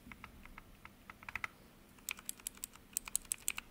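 A Keychron K3 Pro mechanical keyboard switch fitted with a keycap is pressed repeatedly, giving crisp, close clicks and clacks in an irregular typing rhythm, with no voices.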